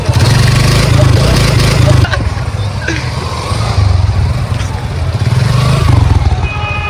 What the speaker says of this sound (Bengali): 3টা বাইক এটার উপর দিয়ে নিয়ে দেখবো যে এটা ভাঙে কিনা